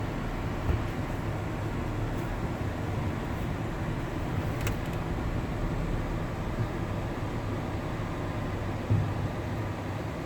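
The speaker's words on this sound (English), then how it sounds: "we're going to take a cruise down the road on the highway" Steady broadband road rumble and tire hum from a 2004 Toyota Sienna wheelchair-accessible van cruising on a highway, heard from inside the cabin as an even, continuous drone with no talking.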